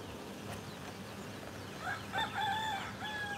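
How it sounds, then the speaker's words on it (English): A wild rooster on Kauai, Hawaii crows a rising then sustained cock-a-doodle-doo near the end, fairly faint and distant over outdoor ambient noise, with no talking. "They got wild chicken everywhere."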